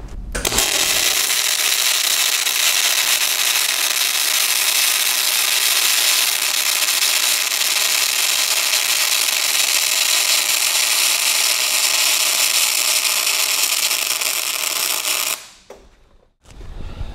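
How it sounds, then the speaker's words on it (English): MIG spray transfer welding at 700 inches per minute wire feed and 27.5 volts gives a loud, steady, dense hiss and crackle that runs unbroken for about fifteen seconds, then cuts off. "what was happening while I was welding"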